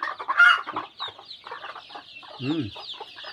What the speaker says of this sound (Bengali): এই যে মুরগির বাচ্চাগুলো।